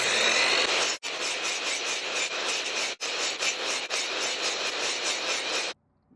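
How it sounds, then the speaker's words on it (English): A hand saw cuts through wood for a cross lap joint, steady rasping strokes running continuously with two brief pauses, close and alone. "just start sawing"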